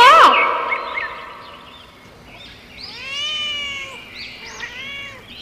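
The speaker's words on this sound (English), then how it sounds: "C for cat." A cat meows clearly several times close by, drawn-out tonal mews with rising and falling pitch, following a short bright burst at the start.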